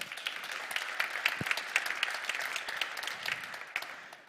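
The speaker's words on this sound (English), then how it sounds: "Big applause for this investment." An audience at a startup demo day applauds an investment announcement, a moderately soft round of clapping with distinct individual claps standing out over the steady patter.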